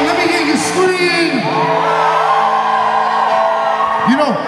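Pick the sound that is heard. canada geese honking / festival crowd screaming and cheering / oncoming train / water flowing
festival crowd screaming and cheering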